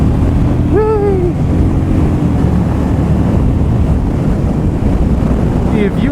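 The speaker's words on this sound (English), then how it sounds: "Hopefully you can hear me through all this wind." Heavy wind buffets the microphone of a rider on a motorcycle in winter, a constant loud roar that fills the whole stretch without a break.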